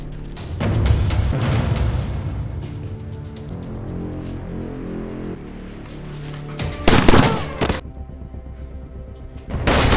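Gunfire and booming impacts in an action movie shootout at a mafia boss's factory, dense rumbling blasts under a music score, with sharp loud bursts near the end.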